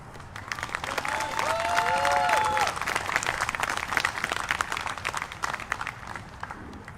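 A crowd at a Libertarian presidential campaign rally in Covington, Kentucky claps steadily for several seconds, dense and loud, with a few cheers and voices mixed in.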